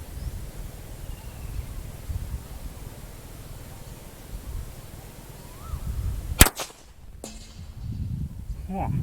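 A CZ455 .22LR rifle fires a single sharp, brief crack outdoors against wind noise, with faint rustling and low murmurs before and after the shot.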